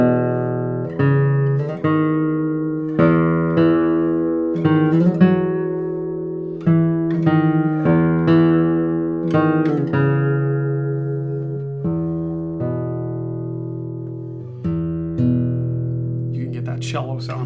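Single notes plucked one after another on the fifth string of a Steven Walter classical guitar, close and clear, each ringing warmly before the next pluck, in a slow steady series.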